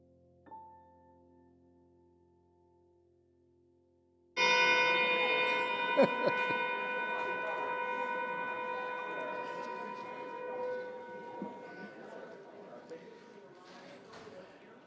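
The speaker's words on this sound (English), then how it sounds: "I've always wanted to do the gong, and Tony's never let me, so this is fun." A large gong is struck once, ringing out loud and sustained with a long shimmering decay that fades over many seconds, in a church setting for a Sunday morning service.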